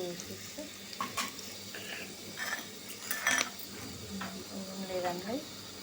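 Lentils added to a pot for a mutton curry, stirred and frying with soft sizzle, spoon scrapes and clinks against the pot while a person talks over it.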